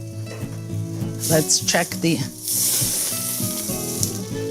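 A Tuscan Maremma style steak coated in a rosemary paste sizzles and flares up as it cooks on its side. A steady bright hiss builds and holds near the mic, with a person talking briefly over the middle.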